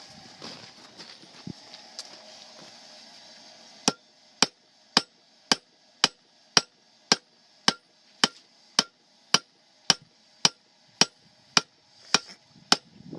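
A blacksmith forging hot metal strikes it with a hammer in a steady, evenly spaced series of about fifteen loud ringing blows, close and alone after a few seconds of quiet shop noise.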